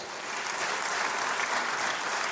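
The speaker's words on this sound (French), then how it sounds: "je voudrais que tous les collègues le félicitent et l'applaudissent pour ce courage" Members of parliament applaud together in a chamber, a dense, even clapping of many hands that holds steady throughout at a moderate distance.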